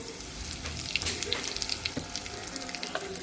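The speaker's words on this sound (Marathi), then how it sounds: "आता आपलं तेल गरम झालेलं आहे, त्यात आपण थोडेसे जिरे टाकूया," Cumin seeds and asafoetida dropped into hot oil sizzle and crackle steadily at close range, a soft hissing fry with small pops and no talking.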